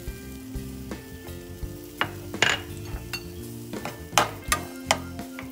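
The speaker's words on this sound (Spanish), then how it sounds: "vamos a freír la cebolla" Onion frying in fat in a pan, a soft continuous sizzle broken by sharp clinks and scrapes of a utensil stirring against the pan, close and fairly quiet, with no talking.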